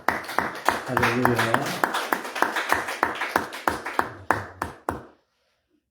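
A church congregation claps in a steady rhythmic beat, about twenty sharp claps in a row before stopping into silence, while a voice calls out over the clapping.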